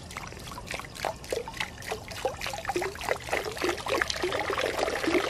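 Water trickles and splashes steadily over the front edge of a garden fountain basin, a lively patter of small drips and pours growing slightly louder.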